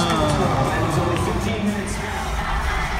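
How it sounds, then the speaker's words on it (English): An arena crowd at an Orlando Magic game in the Amway Center cheers and roars continuously, a dense, loud wash of voices and shouts with a person speaking nearby. "The crowd is fired up and ready to go"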